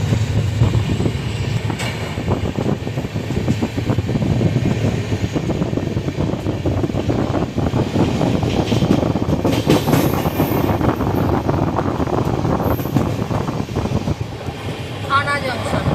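Inside the Saraighat Express as it slows along the line, a constant, loud rolling rumble of carriages fills the clip, with faint wheel and rail noise throughout and what may be passengers' voices in the background.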